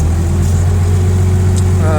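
A cold petrol Komatsu 4.5-ton forklift engine runs at a steady idle, giving a constant low hum close by for about two seconds, with a faint rising whine near the end.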